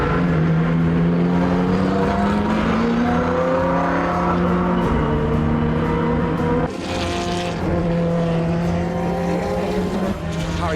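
Le Mans prototype race cars in qualifying at the Porsche Curves, engines roaring loud and continuous with rising and falling gear pitches, a second car blending in partway through, with faint commentary underneath.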